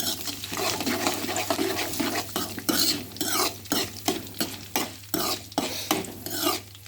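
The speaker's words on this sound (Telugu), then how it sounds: "తాలింపు ఎగి ఎగుతుందనమాట మెల్లిగా మెల్లిగా ఎగుతుంది చూడండి" Cumin seeds sizzling in hot oil for a tempering, with repeated stirring scrapes against the pan over a continuous crackling fry and a low steady hum, no one speaking.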